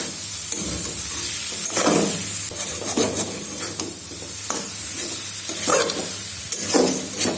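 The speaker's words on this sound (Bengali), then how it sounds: "এখন পনিরের লগে মশলা ভালো করে মিক্স করুন।" Ground paneer being stirred and fried with spices in a pan, with a steady low sizzle and repeated scraping strokes of a spoon against the pan at an uneven rhythm, close and moderately loud, no voices.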